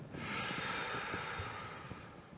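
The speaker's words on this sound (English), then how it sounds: "so let's take a couple deep breaths" A single slow, deep breath drawn in during a guided heart-chakra meditation, close and airy, flowing as one long continuous breath before tapering off.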